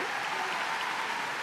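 An audience at a Crufts Kennel Club Hero Dog final breaks into steady applause, a dense, continuous wash of clapping that fills the short moment without pause.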